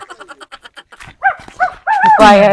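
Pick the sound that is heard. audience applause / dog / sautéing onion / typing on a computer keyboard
dog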